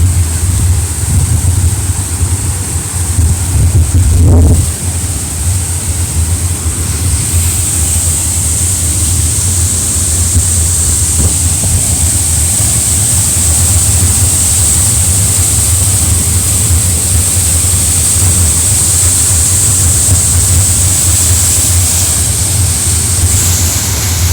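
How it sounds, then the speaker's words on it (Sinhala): Steady roar of the Bambarun Gahana Ella waterfall, a broad continuous rush of falling water filling the whole stretch, loud and unbroken with a faint hiss on top and no voices. "ඕකට ඇල්ලේ සද්ද ඇහෙනවද?"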